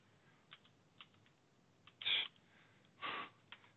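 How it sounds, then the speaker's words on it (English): Faint, sparse clicks of keys being typed on a computer keyboard during an online meeting, a few isolated taps with two slightly longer presses. "Oh, I keep hitting the Windows key, that's why."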